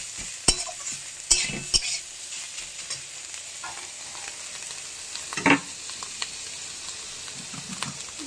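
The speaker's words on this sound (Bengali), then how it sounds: "বন্ধুরা, থোর ভাজা প্রায় হয়ে এসছে, একটু ভাজতে ভালো করে" Chopped banana stem (thor) fries in a pan with a soft, continuous sizzle, broken by sharp clinks and scrapes of a spatula stirring it.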